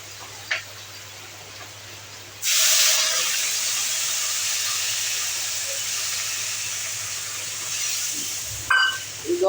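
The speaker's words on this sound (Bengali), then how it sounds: "এবার আমি জল দেবো।" Water hits a hot pan of carrot, bean and potato curry and erupts into a loud hiss that slowly settles into a steady simmering sizzle, with a few clinks near the end and no talking.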